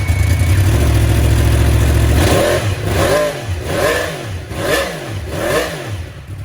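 A 2015 Yamaha R1 motorcycle engine starts up and settles into a steady, loud idle. It then gets several sharp, throaty revs that rise and fall in a regular rhythm, heard up close and alone.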